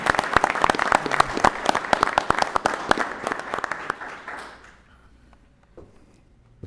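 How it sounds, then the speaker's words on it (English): A small crowd at an Elmhurst city council meeting claps briskly, with dense, distinct handclaps that thin out and fade to near silence over the final seconds. "We can give ourselves all a round of applause"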